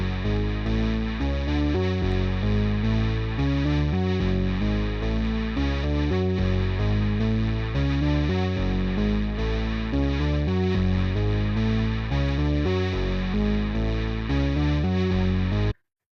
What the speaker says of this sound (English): synth sound from Omnisphere. I found it under the distortion category. It's called Spazzhead.